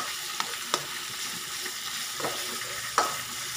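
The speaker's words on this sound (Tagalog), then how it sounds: "Haluin lang ng mabuti" Ginger frying in a pan sizzles continuously while a utensil stirs it, sharp scrapes and clinks landing at irregular moments over the hiss, close up with no voices.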